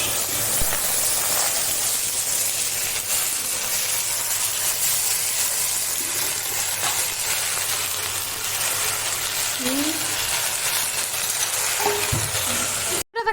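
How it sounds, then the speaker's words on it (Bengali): Leafy greens dropped into hot oil tempered with whole spices in a home kitchen give a steady, loud hiss and sizzle that lasts throughout, with faint stirring scrapes and no talking. "শাক ছেড়ে দেবো ফোড়ন দিয়ে।"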